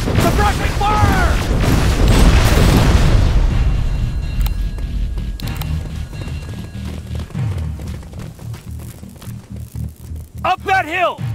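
Gunfire and explosions in the Terminator Resistance game, a loud booming blast that rumbles and fades, followed by scattered sharp shots and impacts, with shouting voices over the combat.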